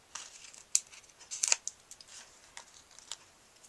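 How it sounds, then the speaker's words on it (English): Backing tape peels off Stampin' Up! Dimensionals in quiet, close crinkly snaps and ticks, with a couple of sharper pulls in the middle and no talking. "get the tape off of these"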